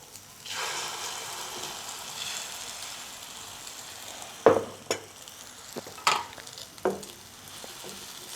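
Omelette mixture hits hot oil in a pan and breaks into a soft, steady sizzle, followed by several sharp knocks and clatters of a utensil against the pan.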